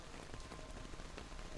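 Rain patters steadily on a surface as an even, faint ambience, with dense droplets and no other sounds.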